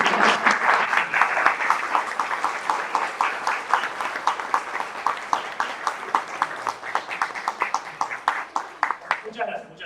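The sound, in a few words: audience applause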